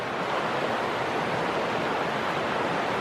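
Tonto River water flowing in a steady, even rush, a dense continuous hiss without breaks, moderately loud and alone.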